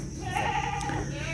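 Goats bleating in a goat pen on a small farm in Blora, Central Java, one drawn-out bleat at moderate distance over steady background noise.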